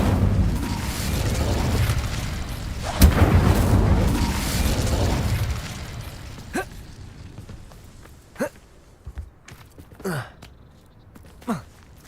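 A fire spell cast in the Hogwarts Legacy video game sets off a loud whooshing burst, which fades into several sharp magical pops and swishes spaced over the following seconds, with no voice over them.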